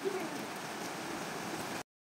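Steady rain falling outdoors during Ramadan in Pakistan, an even hiss of drops that holds at a constant moderate level for nearly two seconds and then stops abruptly, with no talk over it.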